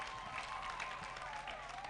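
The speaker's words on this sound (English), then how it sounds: "Let's give a round of applause for our Chancellor." Applause for the Chancellor rises from a crowd at a university graduation ceremony in Uganda, a faint, distant, continuous patter of many hands heard briefly over a room hum.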